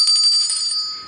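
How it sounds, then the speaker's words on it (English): A T-bell is struck once and rings with a bright, sustained metallic tone and steady harmonics, close and clear, slowly fading over about a second with no talking. "This next one is a T-bell"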